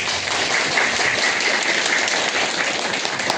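Audience at a township election gathering applauding, a dense, steady wash of many hands clapping throughout without pause.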